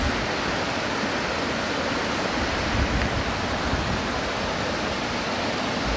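Muddy brown mountain stream running high and fast after rain, a steady, dense rushing roar of water close by with no pauses and no voices.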